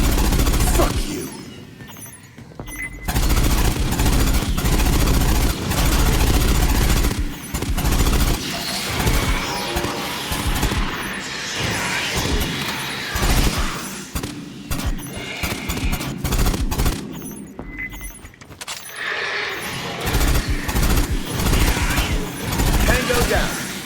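Sustained bursts of automatic gunfire and rapid shots against xenomorph aliens in the sci-fi shooter game Aliens: Fireteam Elite 2, loud and dense across the whole stretch, with shouted voices breaking in over the shooting.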